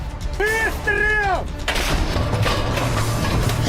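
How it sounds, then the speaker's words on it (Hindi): A loud, booming burst of artillery fire rolls into a rumbling blast of noise, preceded by a brief wavering, whining tone. "कदम कदम पर धमाके हो रहे हैं।"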